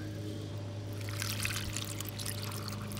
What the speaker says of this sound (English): add some clean water